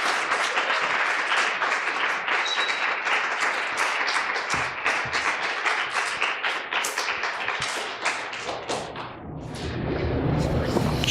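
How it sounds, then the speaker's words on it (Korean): A church congregation applauding at a Sunday anniversary service, sustained dense clapping from a large crowd, loud and close, that swells again near the end. "우리 감사와 고마움의 박수로 우리 환영하도록 하겠습니다"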